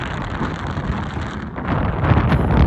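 Strong wind buffeting the microphone on a hillside trek at the Old Man of Storr, a loud, steady rushing roar that swells stronger toward the end, heard alone without speech.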